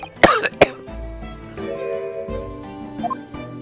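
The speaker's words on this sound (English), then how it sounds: "You seem to be coughing up some" A character in the video game The Great Ace Attorney coughs twice in quick, sharp bursts near the start, then a steady musical game soundtrack with faint chimes carries on alone.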